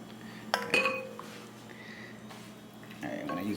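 A utensil stirs cilantro into a pot of vegan ramen soup, giving a few sharp metallic clinks and scrapes against the pot, close and brief, while a person talks.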